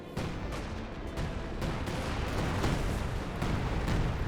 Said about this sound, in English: Artillery barrage there on top of the Pak 40s